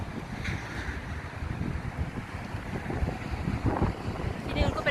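Strong wind gusts buffet a roadside cafe with a salt spa, making a loud, steady, low rumbling roar that swells slightly toward the end.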